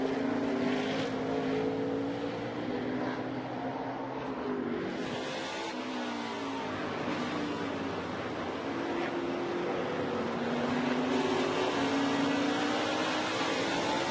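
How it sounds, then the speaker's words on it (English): A 2018 NASCAR Xfinity Series car at Road America roars continuously as it brakes hard and downshifts after a high-speed straight, the engine note rising and falling through gear changes, loud and close. "Hard braking and downshifting."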